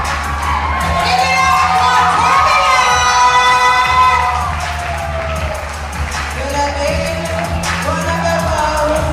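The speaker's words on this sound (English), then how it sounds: "Keep your applause going." A crowd at a Black History Month health center event cheers and shouts loudly and continuously, with children's voices and whoops over a sustained roar; music plays underneath.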